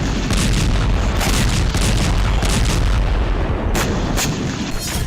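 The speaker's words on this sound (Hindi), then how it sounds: "रात के वक्त रूस ने यहां ताबड़तोड़ मिसाइलें दागी" Russian missile strikes on Sumy at night: loud continuous rumbling booms and crackling blasts fill the whole stretch, with bursts of sharper cracks near the end and no talking.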